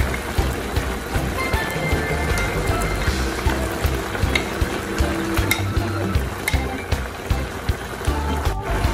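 Shrimp go into a pan of Filipino pancit guisado stir-fry noodles with vegetables, giving a continuous close sizzle and frying hiss broken by frequent scraping and clinking stir strokes.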